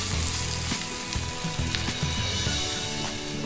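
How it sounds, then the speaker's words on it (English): Prawn masala with tomatoes, onion, turmeric and salt fries loudly in a pan, a constant close sizzle with faint scrapes of stirring and no speech. "You are going to fry them till the tomatoes and the onion are very soft"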